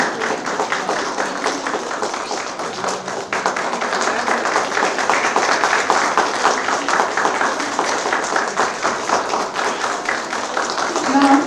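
An audience at an education institute event claps warmly and steadily for a guest receiving a memento and shawl, the dense applause continuing throughout with some voices mixed in.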